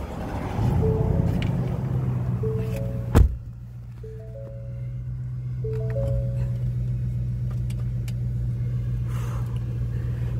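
A Ford F-150 Roush pickup's engine cranks with a rising whir, catches with a sharp thunk and settles into a steady, deep idle rumble that holds close and even for the rest of the clip.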